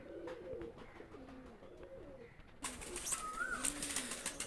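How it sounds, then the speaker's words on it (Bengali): Soft, low coos from Royal Teddy pigeons repeat in rolling phrases, with a brighter bird call and background chatter of other birds joining partway through. "এক পেয়ার রয়্যাল টেডি কবুতর নিয়ে আসলাম"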